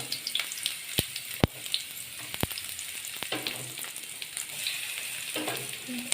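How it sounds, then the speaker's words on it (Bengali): Eggplant slices fry in hot oil, a steady close sizzle and crackle broken by a few sharp clicks and knocks as pieces are placed or turned, with no talking. "এদিকে আমার তেলটাও গরম হয়ে গেছে একে একে আমি বেগুনগুলো দিয়ে দেবো"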